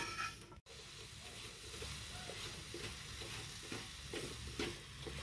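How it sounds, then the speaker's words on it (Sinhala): Coconut treacle filling is mixed into a sweet mixture, a soft close hiss with repeated gentle scraping and stirring strokes, briefly cut by a short dropout early on, no talking. "පැණි පොල් ටික එකතු කරලා මේ විදිහට හොඳින් කලවම් කරන්න"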